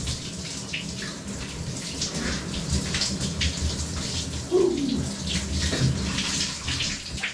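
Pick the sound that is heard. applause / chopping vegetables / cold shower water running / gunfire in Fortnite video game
cold shower water running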